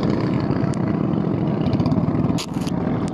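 Twin engines of a boat off Abagatanen beach in Agno, Pangasinan run loud and steady throughout, a close continuous drone with brief wind buffeting near the end.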